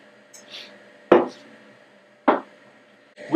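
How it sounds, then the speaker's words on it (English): A knife roughly chops garlic cloves on a board in a kitchen, giving three sharp, close chops spaced about a second apart with quiet pauses between them. "roughly chop 3 or 4 cloves of garlic"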